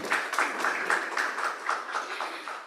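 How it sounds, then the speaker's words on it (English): Audience applauding after a visiting lecture on artificial intelligence, a close rhythmic patter of a few pairs of hands clapping, moderate and even, no talk over it. "let's give a big applause to Prof."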